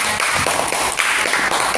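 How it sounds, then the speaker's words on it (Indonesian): Elementary classroom students clapping for a student group after its presentation, a dense burst of many hands clapping at once, loud and sustained through the moment. "Kita berikan tepuk tangan."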